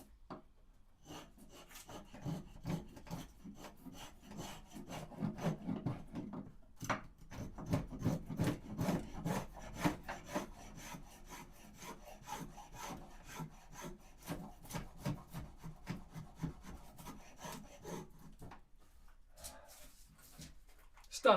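A Shinto rasp shapes the wooden neck of an acoustic guitar in rhythmic, close rasping strokes, a rapid run of scraping passes with brief pauses between bursts, and no talk.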